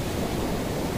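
Sea waves at Calangute beach in Goa in the early morning, a steady broadband wash of surf close by and fairly loud, with no voices over it.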